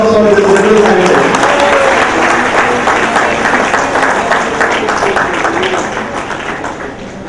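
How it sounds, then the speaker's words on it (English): A big round of applause from parents for a young candidate coming on stage at a school event: loud, dense clapping that holds steady and then slowly fades toward the end, with voices mixed underneath. "May I have a big round of applause for this little candidate."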